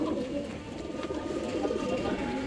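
Racing pigeons coo in a low, throaty murmur, several birds overlapping continuously at close range.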